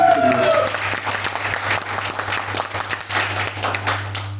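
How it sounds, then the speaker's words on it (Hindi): An audience at a motivational business talk breaks into loud, sustained applause, a dense wash of many hands clapping throughout, with a steady low hum underneath and some voices mixed in. "इसी बात में जोरदार ताली।"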